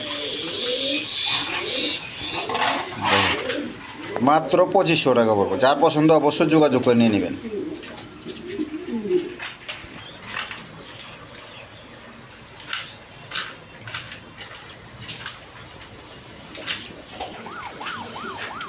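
Colored pigeons cooing in a loft, a burst of dense overlapping coos early on that fades, then someone talks at length over faint bird sounds and scattered clicks.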